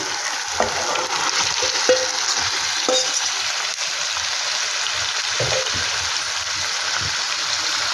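Chicken marinated in salt, chilli powder, turmeric and yogurt is stirred into gravy frying in a pan, with a steady close sizzle throughout and a few soft scrapes of the spoon against the pan.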